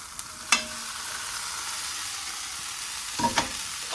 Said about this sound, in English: I'm going to add my bacon back to my skillet. And then I'm going to add my pasta.